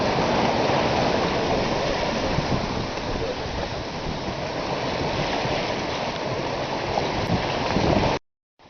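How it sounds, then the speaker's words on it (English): A sailboat running before a gentle breeze of 12 to 15 knots on the open Pacific, with steady loud rushing and hissing of water along the hull as it rides the waves, cutting off abruptly at the end. "here we are sailing along, catching a wave."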